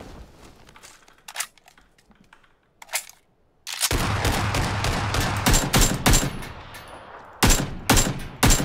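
Bursts of AK rifle fire crack out in PUBG, a few isolated shots first, then rapid automatic volleys that are loud and close, coming in clusters with short pauses between them.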